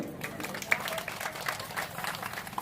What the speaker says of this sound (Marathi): टाळ्या वाजून स्वागत करूया